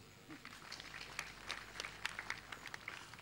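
Audience applause at an awards night broadcast, a thin scattered clapping with sharper individual claps rising through it, fairly distant and modest in level, no voices.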